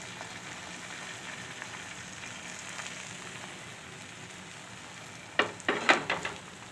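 Egg poured over oil on a hot tava for a bread omelette hisses in a soft, continuous sizzle, with a few louder spatters and taps near the end.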